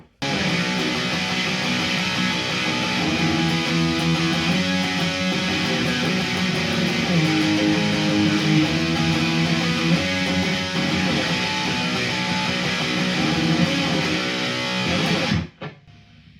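An electric guitar through a Tube Screamer distortion pedal plays a sustained, chord-heavy riff for about fifteen seconds before cutting off abruptly.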